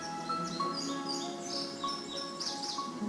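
Video game birds chirp in Nancy Drew: Ghost Dogs of Moon Lake, with a series of short, bright tweets and trills overlapping on a steady ambient bed, fairly close and clear.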